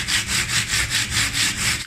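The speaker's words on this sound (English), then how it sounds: "we need to just sand it down" A sanding block rubs back and forth over a patched textured ceiling, a loud, close, rhythmic rasp of about eight even strokes with no talking.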